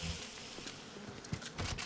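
A swarm of bees unleashed by a plasmid in the video game Bioshock, a faint, steady buzzing drone with scattered crackles, heard alone for a couple of seconds.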